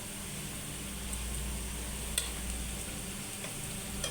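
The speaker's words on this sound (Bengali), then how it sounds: "পেঁয়াজটা ভাজা হয়ে আসছে।" Onions frying in a pan for a dried-fish dish, a steady soft sizzle running throughout with a couple of faint clicks of stirring, no one talking.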